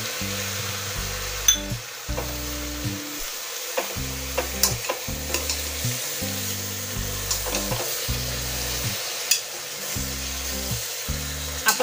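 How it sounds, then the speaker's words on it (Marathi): Chopped capsicum, tomato and beetroot fry in a cumin tempering with pav bhaji masala, a steady close sizzle broken by scraping stirs, with low background music throughout. "जिऱ्याची फोडणी दिलेली आहे, कारण आपण या भाज्या सर्वात प्रथम शिजवून घेणार आहोत"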